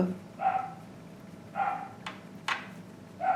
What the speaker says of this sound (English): there's my puppy barking. They're playing with each other, so they are barking at each other. It's a play bark.